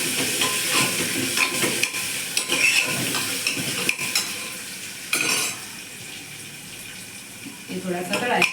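Potatoes sauté in a pan for vaghareli khichdi, giving an uneven frying sizzle and hiss broken by stirring scrapes and clinks. A voice talks over the cooking sounds.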